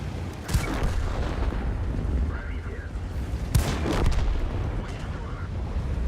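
Artillery fire in World of Tanks, two sharp, heavy booms a few seconds apart over a rumbling battlefield background, with a voice talking between them.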